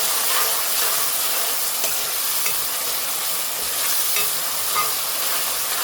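Khaga fish and coriander stirred in a frying pan, a steady close sizzle with hissing steam and scraping stirs running throughout, no voices.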